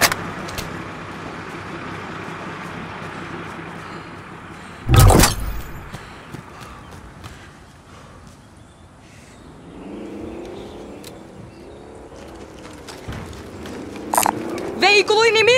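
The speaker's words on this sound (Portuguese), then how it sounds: "Veículo inimigo!" An enemy vehicle engine in Call of Duty: Warzone battle royale hums at a distance and grows louder near the end, under sharp impacts, a loud burst and people talking.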